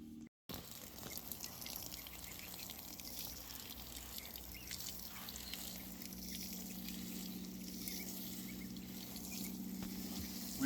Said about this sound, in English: we water it in